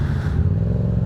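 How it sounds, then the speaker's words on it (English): Two motorcycles rolling slowly into a parking spot at a tuner night car meet, a steady loud low engine rumble close by. "Twin bikes rolling in."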